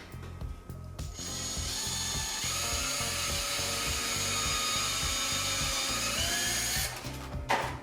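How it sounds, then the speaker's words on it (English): A power drill drives a screw into a wooden kitchen cabinet while fitting a soft-close door dampener, giving a steady, loud ratcheting whine for about six seconds, with brief clicks before and after. "Take your drill,"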